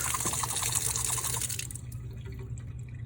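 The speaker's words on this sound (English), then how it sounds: "Make sure you clean out your crucible with tap water and a little bit of soap." Tap water runs steadily into a sink while a lab crucible is cleaned with a little soap, a constant hissing splash that drops to a quieter trickle partway through, with no talking.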